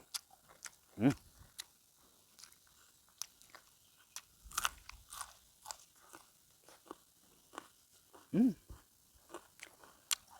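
Close, crunchy chewing and biting of laab with sticky rice, eaten with fresh vegetables and chilies, irregular soft crunches with a few louder bites over quiet, faint background sounds.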